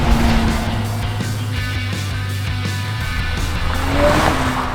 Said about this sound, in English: This is the BMW Z4, the E86. We've got a, wow! We've got a 3-litre straight 6 N52 engine